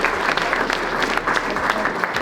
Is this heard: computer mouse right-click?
no